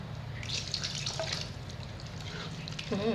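Water is poured into a dish while Thai chili dip with grilled catfish is being cooked, a close, steady trickle and splash with a few drips, continuous through the short stretch without talk.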